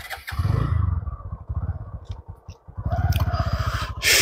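A motorcycle rides along a village road on a cold winter morning, its engine putting loudly and close in a fast, rhythmic throb that dips briefly midway before picking up again.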